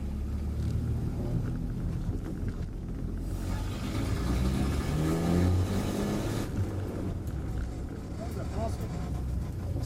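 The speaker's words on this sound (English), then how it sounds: "Spin the tires in second gear" An old Nash car's engine rumbles and revs hard as its tires spin in second gear, a loud, close roar that swells midway and then eases, with voices talking over it.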